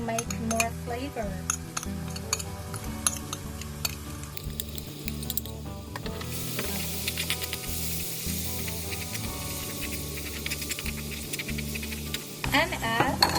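Seasoning paste sizzling and frying as it is stir-fried in a pan for spicy squid, a steady close crackle with occasional utensil clinks and scraping against the pan.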